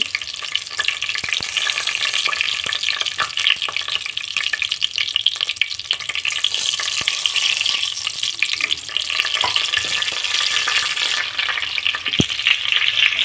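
Whole garam masala spices and a bay leaf crackle and sizzle steadily in hot oil for biryani, a continuous close frying hiss with occasional sharper pops and stirring clinks.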